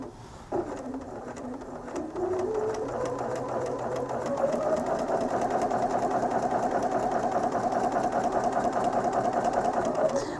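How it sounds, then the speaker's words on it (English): A sewing machine runs a quilt seam without backstitching, its rapid, even mechanical stitching starting after a brief pause and continuing steadily at close range. "I'm going to start sewing the seam"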